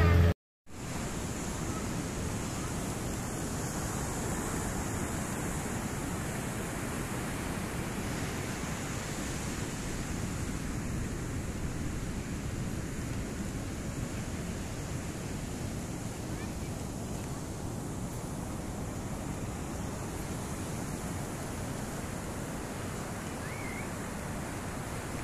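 Steady broadband surf at Jetis Beach on Indonesia's south coast, continuous rolling wave wash mixed with wind buffeting the microphone, loud and unbroken throughout after a brief silent gap at the start.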